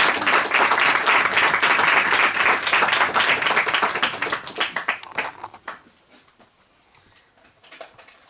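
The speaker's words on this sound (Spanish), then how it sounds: "Un fuerte aplauso para..." An audience at a book presentation and tribute event bursts into loud, dense applause that holds for about four seconds, then fades into a few scattered claps before a brief final flutter.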